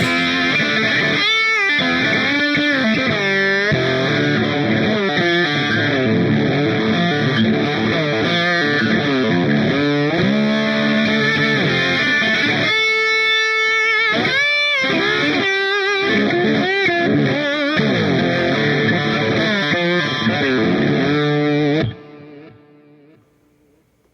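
Electric guitar with Jim Wagner Dark Burst low-output vintage-style humbuckers driven through a Gecko Pedals O Face modulated overdrive, playing loud, continuous distorted chords and riffs that ring out and stop abruptly near the end.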